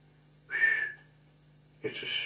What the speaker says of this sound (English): Peter Sam whistled at the stations